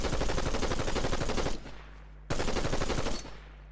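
An assault rifle fires in Fortnite in two loud, close automatic bursts, each lasting a second or more of rapid rattling shots, with a short pause between them.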